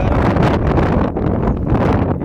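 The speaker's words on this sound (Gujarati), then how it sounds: "જો સામે જો આપણા ઝાડવા છે ને પવન એટલો છે" Strong gusting wind sweeps through farm trees during unseasonal rain, roaring loudly with heavy buffeting on the microphone and rustling leaves throughout.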